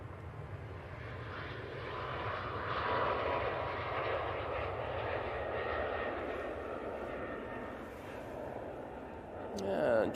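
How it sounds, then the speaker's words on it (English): Ryanair Boeing 737 MAX 8 departing Manchester Airport, a continuous jet-engine roar that swells gently and stays fairly distant, with a brief clatter near the end. "That was a Ryanair 737 MAX 8 that's departing"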